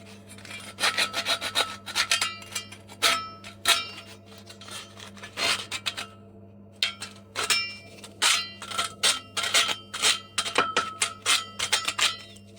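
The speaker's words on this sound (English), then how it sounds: "You can effectively use sandpaper or a file such as a metal file to achieve the desired result." Corner edges being filed or sanded smooth with sandpaper or a metal file on a DIY stretch ceiling frame, with close, crisp rasping strokes in quick uneven bursts and brief pauses, and no talk.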